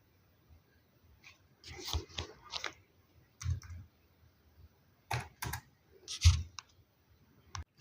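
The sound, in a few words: mouse clicking on the create account button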